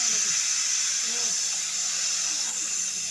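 A pressure cooker holding pork releases steam in a continuous, loud, close hiss that stays even for the whole stretch, with a voice talking faintly underneath.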